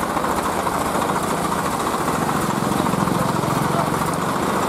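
A Sonalika 750 tractor stuck in deep mud runs its engine at a steady, loud throbbing chug, with voices faintly mixed into the drone.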